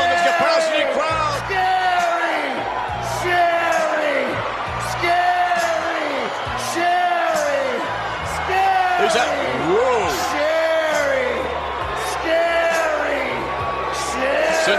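A capacity crowd at a wrestling arena cheers, whoops and yells almost without pause, with a loud, dense roar of many voices and excited commentators talking over it.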